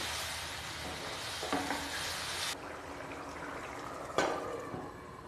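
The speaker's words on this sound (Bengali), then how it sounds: "তারপর ঢাকনা চাপা দিয়ে 5 মিনিটের জন্য ফুটতে দেব" Gravy with potatoes bubbles and simmers in a pan, a soft, steady hiss and burble up close, with a few clunks as the lid is moved and the sound briefly shifts.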